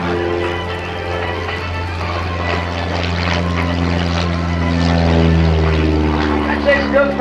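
Propeller engine of an aerobatic airplane performing at the 2010 New Garden Airshow, a steady droning hum with shifting harmonics that swells gradually, heard continuously beneath a commentator's voice.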